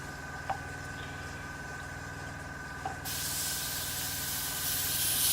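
An airbrush sprays grime weathering onto a 1/35 Tamiya M4A3E8 Sherman model tank. A quiet background hum with two faint clicks gives way to a steady, close, hissing spray of air.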